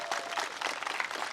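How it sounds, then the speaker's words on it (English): Audience applause at a culinary academy awards ceremony, a short burst of dense, even clapping from a seated crowd, moderately loud and without speech. "Give these guys a big round of applause."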